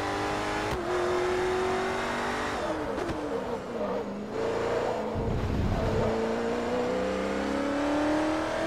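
A Koenigsegg's engine roars and revs during a Forza Motorsport 3 race, pitch climbing through gear changes with brief drops and rises, loud and close, no talk over it.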